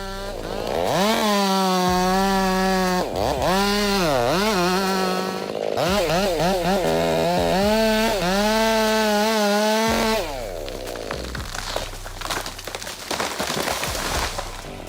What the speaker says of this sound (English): he still succeeded in sawing down a giant tree